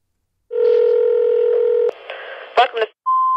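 Touch-tone telephone keypad dialing a cell phone company: a long steady dial tone, then a quick run of short keypad beeps, and a final sustained tone, loud and close.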